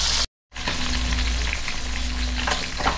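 Four tilapia fry in a pan with a steady, close sizzle and crackle of hot oil that starts after a brief silent gap and continues evenly, no voices.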